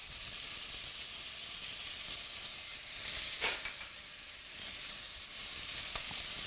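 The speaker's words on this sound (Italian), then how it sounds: "facciamo rosolare un po'" Lamb stew pieces browning in a pan with onion, capers and parsley give off a steady soft sizzle and hiss, with a brief louder crackle partway through.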